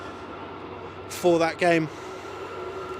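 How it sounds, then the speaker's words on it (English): A passing train sounds two short, loud horn blasts in the distance beside an American football league game, while a commentator talks over steady background noise. "The train's giving us a good old beep as it goes by."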